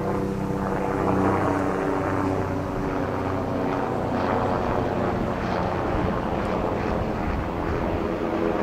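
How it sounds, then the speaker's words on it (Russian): A steady, rumbling helicopter drone passes overhead, continuous and fairly loud throughout with no talking. "Пролетающий вертолет заставил меня посмотреть на часы."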